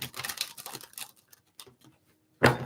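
Tarot cards riffle and slap together in a few quick shuffles close by, soft papery bursts separated by short pauses and ending in one sharper snap.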